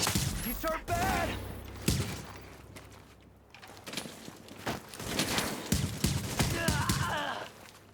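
Rapid, sharp gunshots from a video game, fired in quick irregular volleys with a lull in the middle, under ongoing talk from a player.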